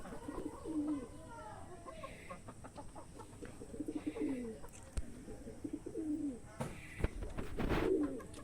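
Domestic pigeons coo in repeated low, rolling phrases at close range, a few seconds apart, with faint rustling and a sharp knock near the end.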